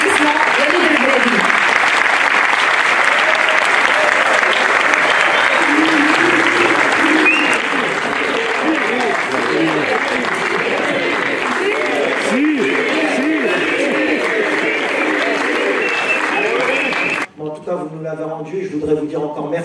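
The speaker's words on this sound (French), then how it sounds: "Mesdames et messieurs, sous vos applaudissements, Yannick Delbrady." Dense, loud applause from a large audience at a celebration for a football coach at an engineering school, sustained with crowd noise throughout and cut off abruptly near the end, where a voice begins speaking.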